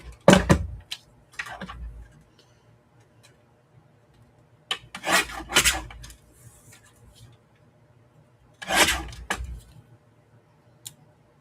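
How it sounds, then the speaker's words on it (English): Paper is trimmed to make a tag in three separated bursts of crisp rasping strokes, close and fairly loud, with quiet pauses between them and a faint tick near the end. "Let's trim this up and make a tag."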